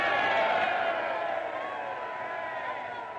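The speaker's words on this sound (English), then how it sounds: "The applause didn't last for very long." A crowd in an old archival recording gives sustained applause and cheering, a dense, even wash of clapping with a slight hiss, fading a little toward the end.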